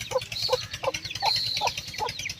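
Chickens cluck nearby on a farm with buffaloes and cows, giving a quick run of short, evenly spaced clucks over a low, steady background murmur.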